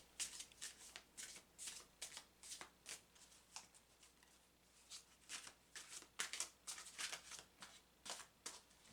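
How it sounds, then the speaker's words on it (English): A deck of oracle cards being shuffled on a table, with quick riffling bursts repeating in an uneven rhythm, close and fairly soft, with no talking. "So now I'm going to lay the cards on the table and shuffle"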